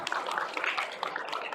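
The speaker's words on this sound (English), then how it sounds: "Give them a round of applause" Applause from the audience at the close of a price action trading talk at a traders' fair, steady dense clapping that fills the short moment without pause.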